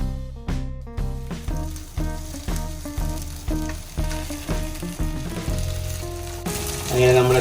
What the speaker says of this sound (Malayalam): ഓക്കെ, ഈ ചിക്കൻ അതിലേക്ക് ഇട്ടിട്ട് ഒന്ന് ഇളക്കിയെടുക്കാം.